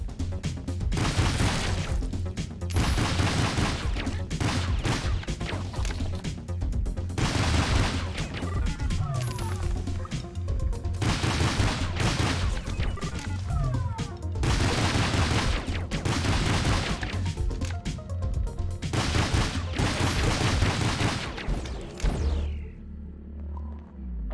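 Rapid gunfire and explosions in the twin-stick roguelite shooter Doomsday Hunters, dense bursts of shots with booming rumbles, loud and nearly continuous before cutting off abruptly near the end.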